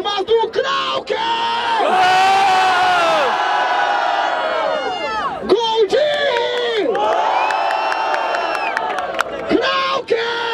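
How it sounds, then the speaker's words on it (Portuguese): A rap battle audience at an open-air freestyle event in Barueri roars with sustained cheering, whoops and shouting, loud and continuous with swelling yells throughout. "Barulho para as rimas do Krauk"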